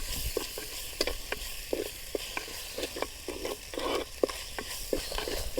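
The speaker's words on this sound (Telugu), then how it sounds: "ఇలా ఒక మూడు నిమిషాల పాటు వేపితే అవి కూడా బాగా మగ్గిపోతాయి" Tomatoes, onions and green chillies frying in a pan for a fish head curry sizzle steadily, with frequent short scraping clicks from stirring and no talking.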